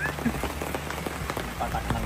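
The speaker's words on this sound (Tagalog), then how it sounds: "Patak ng ulan. Mga patak ng ulan." Raindrops patter steadily on surfaces at a campsite during a super typhoon, with dense, close, continuous tapping.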